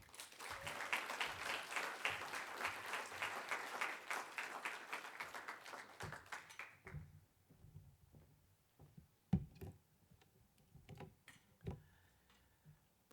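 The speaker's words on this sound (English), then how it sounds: "I'd like to invite you to please give Mr. Kingsley Kwenani, our Deputy Executive Director, a massive farmers' round of applause." An audience at an agricultural series event applauds a deputy executive director, a dense round of clapping that fades after about seven seconds into scattered individual claps.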